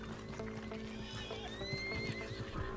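A Red Dead Redemption 2 horse neighs in long, rising whinnies while hooves clop steadily beneath, close and continuous amid game background noise.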